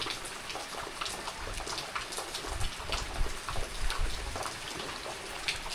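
Monsoon rain falls on a Konkan village, a steady patter of drops on surfaces with scattered louder splashes, moderately faint and continuous throughout.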